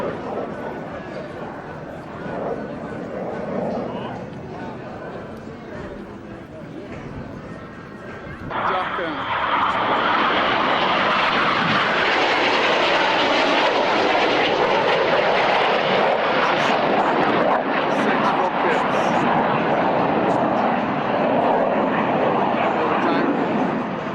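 Saab Lancer fighter jet flying at the Fairford Air Tattoo, a distant engine hum that suddenly jumps into a loud, sustained roar as it passes near, with crowd voices chattering underneath.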